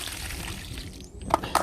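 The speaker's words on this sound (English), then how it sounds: "put some hot water in." Hot water runs into frozen animal drinkers on a winter morning, a low, steady trickle and slosh with a couple of brief, brighter splashes near the end.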